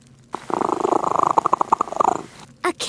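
A cat purrs in the video game I Spy: Spooky Mansion Deluxe, a close, loud, rhythmic rumbling pulse lasting a couple of seconds before a brief pause.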